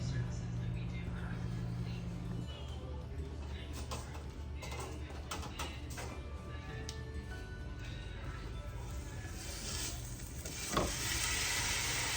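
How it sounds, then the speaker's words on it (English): Tri-tip steak searing with butter in a hot pan, a continuous loud sizzle and crackle that runs the whole time, with occasional scraping and one brief sharp knock near the end. "I'm gonna put the tri-tip in, then I'm gonna throw some butter in there with it"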